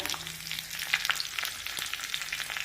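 Curry leaves and a pinch of asafoetida crackle in hot tempering oil with slit green chillies for rava dhokla, a steady close hiss broken by a few sharp pops.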